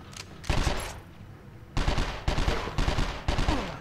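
Gunfire in the PlayStation 2 video game 24: The Game, heard as loud automatic bursts. One burst comes early, then four longer bursts follow in quick succession, close and with no talking.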